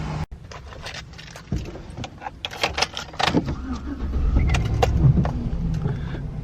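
A lifted Chevrolet Silverado truck with a V8 engine: keys jangle up close, then the engine cranks and starts, settling into a steady, rumbling idle.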